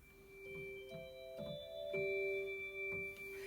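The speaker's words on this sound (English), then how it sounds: "kind of fluty sound on it and a 16-foot together." Sustained electronic organ tones with a reedy, flute-like nazard stop over a deep 16-foot bass stop, notes changing in a slow melodic line, with soft key clicks.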